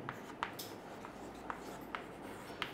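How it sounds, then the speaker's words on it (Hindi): Marker or chalk strokes on a classroom board during a chemistry lesson on atomic structure, a series of short scratchy taps and squeaks spaced about half a second apart, quiet and close, with no talking. "तो देखो हम यहाँ साफ लिखते हैं"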